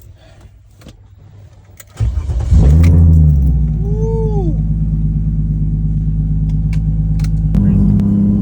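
A 700-horsepower BMW E30 sedan's engine fires into a loud, steady roar and holds a strong drone as the car pulls away, with a brief rising note and a louder surge near the end; a voice whoops briefly.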